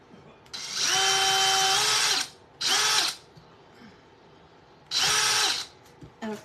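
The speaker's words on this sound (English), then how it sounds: "We're just gonna drill a hole right here." A power drill bores a hole into a wooden ghost craft, with three loud bursts of whirring motor and bit grinding through wood, separated by short pauses and ending with a quick final tap of the trigger.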